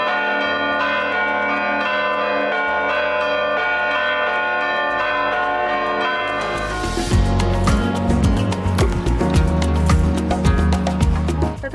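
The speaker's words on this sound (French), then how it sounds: "Au détour d'une rue, les cloches dans une église se sont mises à sonner." Church bells ring out in a Greek town, first a sustained resonant tolling, then a louder, busier peal of overlapping clangs that builds and carries on steadily.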